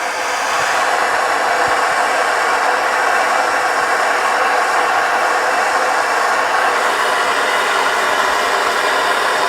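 A torch flame heating copper pipe for soldering during a gas water heater replacement in a garage gives a steady, loud broadband roar. It holds even and unbroken for the whole stretch, with no voices over it.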